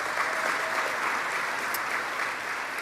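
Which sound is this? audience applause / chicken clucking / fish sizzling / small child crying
audience applause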